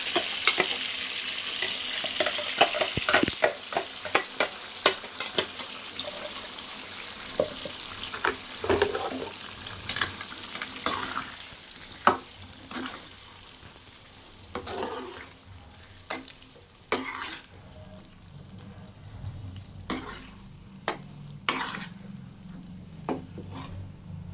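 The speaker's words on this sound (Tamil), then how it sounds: "அரைச்ச மசாலாவை அப்படியே நம்ம சேர்த்துக்கலாம்." Ground masala frying in hot oil for an oily brinjal curry, sizzling softly while a spoon stirs and scrapes the pan in irregular clinks throughout.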